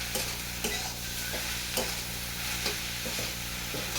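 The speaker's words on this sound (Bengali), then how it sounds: "ভেজে বাঁধাকপিটাকে আবার ভেজে নেবো" Cabbage frying in a pan with salt, a steady close sizzle under regular scraping stirs of a spatula every half second or so, no voices.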